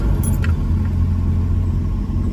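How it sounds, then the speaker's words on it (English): A Plymouth Slant Six engine starting for the first time, a loud steady low rumble close by with a brief higher whirr near the start, running evenly without talk. "this will be its first startup"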